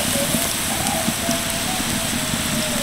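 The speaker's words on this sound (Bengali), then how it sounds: "সবজিগুলো এবার ভালো করে ভাজবো" Chopped capsicum, carrot, potato, green chilli, onion and tomato sizzle in a pan for pasta, giving a steady, close crackling hiss that runs without pause throughout.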